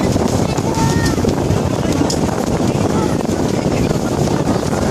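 Steady roaring wind buffets the microphone on a harbour tour boat over a continuous rumble of water and the boat bumping through choppy water, loud and unbroken throughout.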